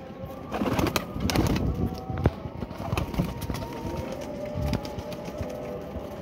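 Flying pigeons coo repeatedly in low, soft throaty phrases, close by amid outdoor background noise, with scattered clicks and taps from the birds or their cage.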